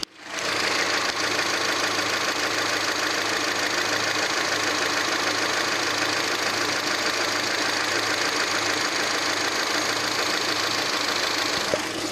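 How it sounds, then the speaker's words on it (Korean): A Hyundai YF Sonata gasoline engine idling up close with the hood open, a smooth, even, quiet continuous hum with no change in pace from start to finish. "확실히 휘발유 엔진답게 굉장히 정숙한 소리도 내고 있는 차량이었죠."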